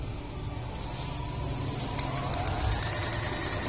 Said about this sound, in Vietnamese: Đây đang may vải mỏng hai lớp nhá.